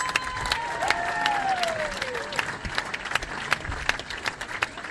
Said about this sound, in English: ladies and gentlemen, keep the applause going there, Lamage